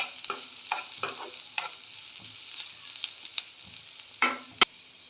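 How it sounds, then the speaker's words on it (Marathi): Sliced onion fries in a pan for a spicy shev bhaji, with a low hiss under a series of crisp spatula scrapes and taps, about ten in irregular rhythm, nearby and unaccompanied by speech. "कांदा आपला भाजून होत आलेला आहे. अजून थोडासा खरपूस भाजून घ्यायचा आहे."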